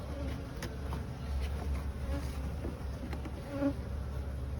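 Honeybees inside an opened hive in spring, a calm, low, continuous buzz with faint individual wing flickers and a steady background drone, no talking.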